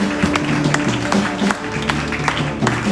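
Church congregation applauding and cheering in praise of the Lord, a dense sustained wash of clapping with musical tones underneath, steady and fairly loud throughout.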